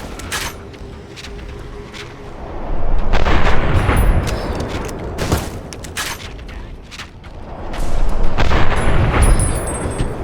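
Rifle and pistol fire in Fallout New Vegas comes as repeated loud cracks and heavy booms over a rumbling battle backdrop, rising in two dense bursts.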